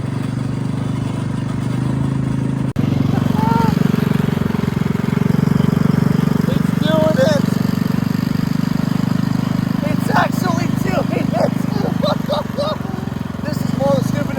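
A Manco Dingo yard kart engine runs loud and steady at throttle from start to finish, a constant close drone with a brief dip early on and voices faintly heard over it.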